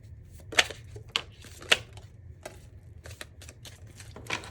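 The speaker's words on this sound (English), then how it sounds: "One more shuffle." Cards riffle and snap in a quick, uneven series of crisp taps and flutters, close and fairly quiet, with a low hum beneath.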